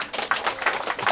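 Sparse applause from an audience at a New Year farewell-and-welcome gathering in Papua, a few hands clapping in loose, irregular bursts, fairly close and not very loud.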